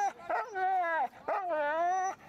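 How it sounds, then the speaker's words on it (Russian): Husky sled dogs give two long, high-pitched yelping barks that waver into whines, each lasting about a second, close and loud. "Звонким лаем хаски буквально требуют, чтобы их поскорее запрягли в нарты"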